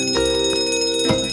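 A fire station alarm bell rings loudly as a wake-up call, a continuous metallic ringing with steady strikes, close and alone without voices.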